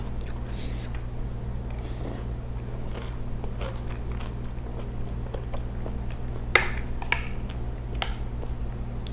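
Crisp bites and chewing of fresh mayongchid fruit (marian plum) in a spicy salad, a few sharp crunches standing out close against a steady low background hum.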